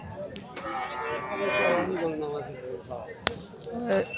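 Cattle low and moo at a livestock market, a drawn-out moo rising over a busy crowd where people talk and metal clinks sound nearby.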